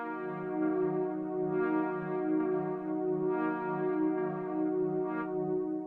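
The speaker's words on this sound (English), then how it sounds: "So I've used the Juno 106 preset here that sounds like this." Juno 106 brass pad synth preset holding a rich sustained chord, its bright brassy swells rising and fading gently in a slow rhythm, alone with no talk.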